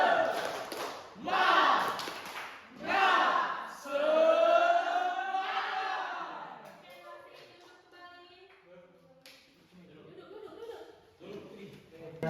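A school class on its feet performs a spirited clap chant during a geometry lesson, several loud rhythmic shouted bursts from many young voices that fade into quieter chatter and talk toward the end.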